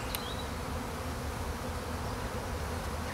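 Honey bees buzz steadily around an open hive during an early-spring March inspection, a dense, continuous drone filling the whole stretch with no voices.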